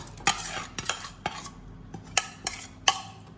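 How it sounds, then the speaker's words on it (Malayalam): Sharp clinks and scrapes of a utensil stirring mustard seeds, onion and curry leaves frying in a pan, several distinct knocks spaced irregularly, with a faint background hum. "കടുകും ഉള്ളിയും കരിയേപ്പിലയും കൂടെ വറുത്ത് ചേർത്ത് കൊടുക്കാം"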